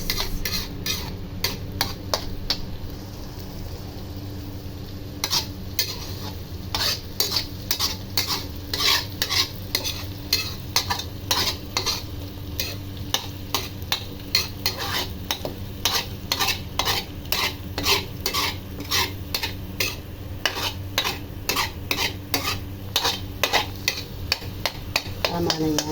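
Scrambled egg with onion leeks being stirred and fried in a pan: a steady sizzle under a long run of quick, even spatula scrapes and clinks against the pan, close and continuous, with no talking.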